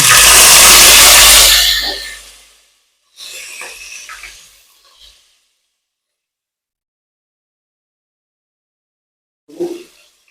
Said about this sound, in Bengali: তেল গরম হয়ে গেছে আমি পেঁয়াজ দিয়ে নিচ্ছি